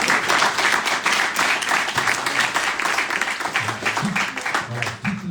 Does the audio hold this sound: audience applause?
yes